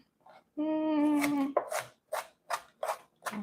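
A knife chops vegetables for veggie bread in a home kitchen, with about five evenly spaced, crisp strikes close by, following a brief sustained voiced tone.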